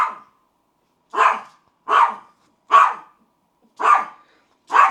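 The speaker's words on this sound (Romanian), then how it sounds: "se pare că latră și un cățel" A dog barks six times at a steady, spaced rhythm, each bark sharp and clear against silence, fairly close, captured on a DJI Mic 2.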